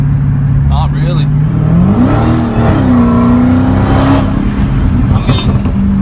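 A Dodge Hellcat in 500 mode accelerates with a loud, close engine drone that climbs in pitch, dips at a shift and rises again, heard from inside the car with voices talking over it.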